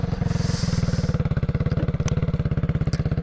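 A Sedna RFN motorcycle engine runs close by at a steady, rapid thumping idle, a dense even pulse throughout with faint background noise.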